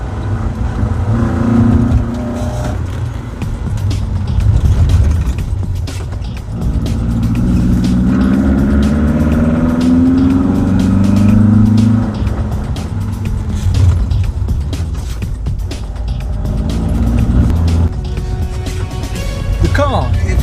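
An Opel Ascona rear-wheel-drive rally car's engine surges and eases repeatedly as it accelerates hard and brakes on winding roads, the revs rising and falling through quick turns, with talking over it.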